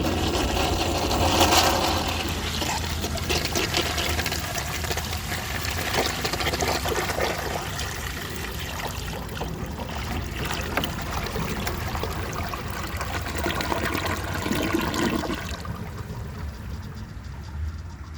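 A 1976 Crane Whirlton toilet flushes a large cotton shirt, a loud continuous rush and gurgle of water running for many seconds before the flow tapers off near the end.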